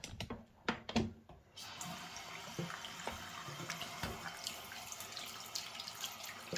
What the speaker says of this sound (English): let's go ahead and start by washing our hands.